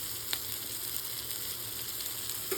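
Eggplant masala tawa fry sizzles on a hot tawa over a low to medium flame, a close, steady crackling hiss with a few sharper pops.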